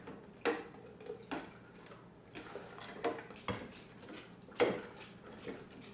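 A spoon stirs brown sugar into warm homemade chai tea, giving quiet, scattered clinks and taps against the cup at an uneven pace, close by in a still room.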